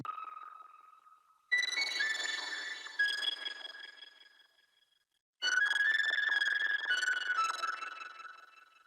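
FL Studio synth plucks with a bubbly, resonant filtered tone and gritty distortion, ringing out in two separate phrases with a pause between them.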